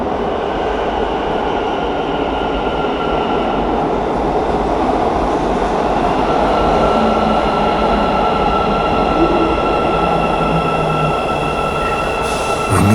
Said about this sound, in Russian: В метро города Алматы ходят поезда Hyundai Rotem